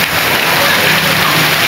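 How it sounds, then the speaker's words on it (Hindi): Heavy rain pours steadily in Pindi, a dense, loud and continuous hiss of water falling on surfaces with no break. "बारिश चेक करें, बहुत तेज़ बारिश लगी है,"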